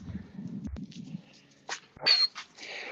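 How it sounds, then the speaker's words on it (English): An old senior farm dog on an Alberta beef and potato farm makes short soft whimpering and snuffling sounds, then a few sharper yelps close by, with quiet pauses between. "this old dog here is the senior one I was referring to"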